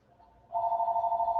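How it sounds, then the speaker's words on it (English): A mobile phone rings close by: a faint buzz at first, then a loud steady electronic ringtone trilling in fast pulses for about a second. "My phone's ringing."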